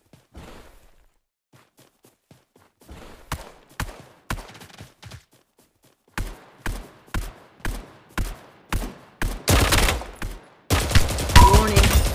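Bombardment gunfire in the mobile shooter Omega Legends: scattered sharp shots that build into rapid, regular bursts and end in a dense, loud barrage.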